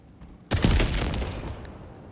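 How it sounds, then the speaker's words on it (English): A high-explosive round from a support weapon in Helldivers 2 detonates with a sudden loud boom after a quiet moment, then rumbles and crackles as it fades. "It's a little bit of a bigger explosion radius right there."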